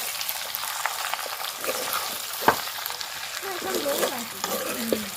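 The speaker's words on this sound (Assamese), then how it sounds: "পুৰা ভাজি আছে" Food fries in a pan with a continuous, even sizzle and a few sharp crackles, and a faint voice can be heard toward the end.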